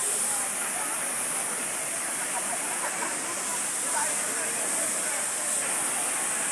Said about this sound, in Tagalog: Yun na po siya ngayon yung Taytay Falls.